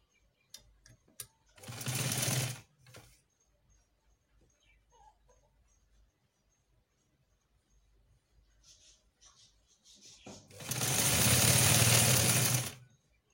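Sewing machine sewing a straight seam, two short loud bursts of close whirring stitching separated by quiet handling noises, the second burst longer.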